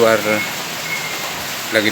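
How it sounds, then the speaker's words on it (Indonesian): Steady rain falling outside a house and beginning to ease, a constant close hiss throughout, with a voice briefly audible at the start and end. "lagi hujan"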